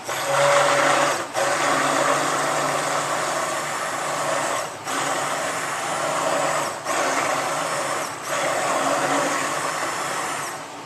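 A stick blender mixes soap batter, whirring continuously at close range in steady bursts, briefly cutting out a few times before starting up again.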